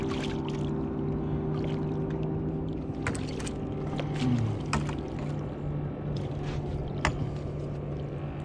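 Boat traffic on Green Bay during walleye jigging in April, a steady low engine drone with a constant hum running throughout, broken by scattered clicks and knocks nearby, no talking.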